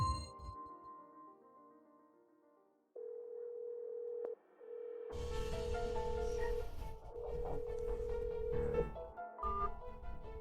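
A steady telephone dialing tone hums on, briefly breaking off, while louder background sounds swell in underneath.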